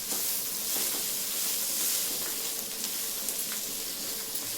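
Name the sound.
masala with coriander leaves frying in pan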